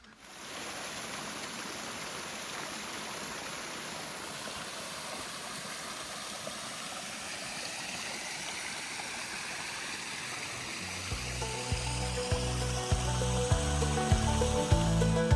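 A brook beside the Brassy Brook camping area on the Appalachian Trail rushes with a steady broadband wash, and a low rhythmic mechanical thumping joins near the end.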